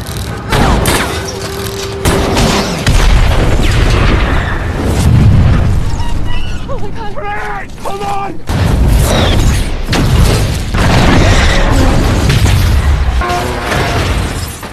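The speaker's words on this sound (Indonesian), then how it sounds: "karena ketakutan dan putus asa, Ferris secara tidak sengaja menembak beberapa tangki yang mudah terbakar, sehingga menyebabkan ledakan yang membunuhnya dan menghancurkan pesawat mereka." Flammable tanks explode and destroy a spaceship in a film scene, with repeated loud booms and bursts of gunfire-like cracks over rumbling, overlapping dramatic sounds throughout.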